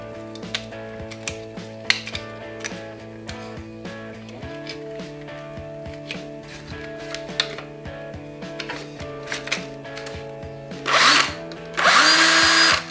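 An 18V Makita battery power tool running from a 230V mains adapter gives a steady drill-like whine with a pitch shift partway through, then ends in two loud bursts of harsher grinding noise.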